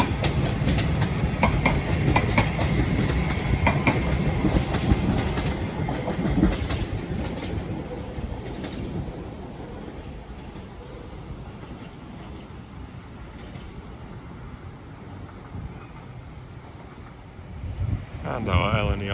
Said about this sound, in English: our LNER Azuma to London King's Cross is now ready to depart